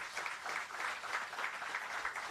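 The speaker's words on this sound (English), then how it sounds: "I invite you all to give her a round of applause." Conference audience applauding a guest named Martha at an anti-corruption agencies regional meeting, steady distant clapping from the hall, faint and continuous throughout.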